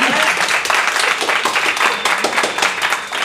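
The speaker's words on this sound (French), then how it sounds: "On peut applaudir, je pense." Loud, close applause from a live studio audience at the opening of a French public broadcast show, brisk clapping that stays dense and even throughout.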